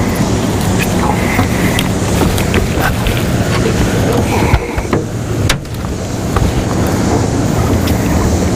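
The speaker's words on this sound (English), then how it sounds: "I'm gonna have to turn this boat around" A motor boat turns on a lake, its engine droning steadily under heavy wind buffeting and splashing water, with a few sharp knocks.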